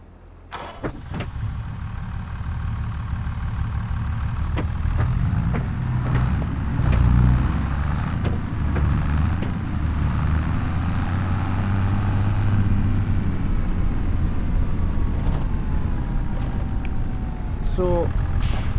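A John Deere tractor engine on a farm runs with a steady low rumble from start to finish, with people talking over it now and then.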